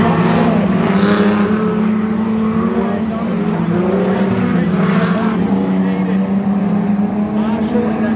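Standard Saloon race cars, including a silver Holden Commodore, roar around Sonic Speedway at Swan Hill, a loud continuous engine drone from several cars together, with a commentator talking over it.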